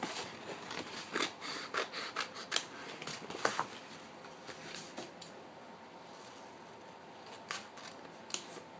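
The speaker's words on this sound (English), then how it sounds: "you'll take regular scissors and just cut out the 2 images that you need" Regular scissors snip through a thin vinyl sheet to cut out two images, giving close, faint, irregular clicks and crisp snips with light rustling of the material and short pauses in between.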